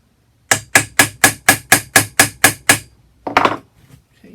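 Hammer striking a nail set to sink nails into a wooden tool tray: eleven sharp, evenly spaced close taps in a quick steady rhythm, then a short pause and a softer scraping knock.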